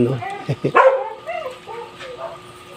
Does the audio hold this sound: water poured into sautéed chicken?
no